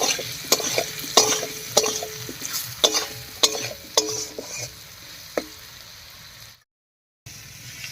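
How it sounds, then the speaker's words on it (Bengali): Potatoes seasoned with salt and turmeric sizzle in a hot pan while being stirred, with repeated scraping strokes over a steady frying hiss, followed by a short silent gap. "লবণ আর হলুদ দিয়ে একটু রান্না করে নিয়েছি"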